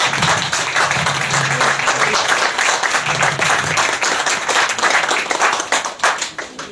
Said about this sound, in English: we ought to have a big round of applause for Tracy as well.